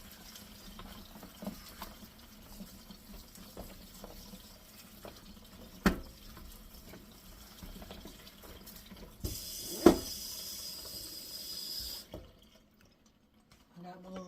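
Tap water runs while okra is washed in a kitchen sink before steaming, a steady splashing stream with a brighter, louder gush near the end before it shuts off, with some speech-like activity around it.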